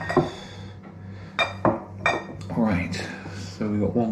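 Drinking glasses clink and knock as they are handled during a craft beer tasting of a Swedish pastry imperial stout, with several short sharp taps and clinks spread across the moment, close by and under a steady low hum.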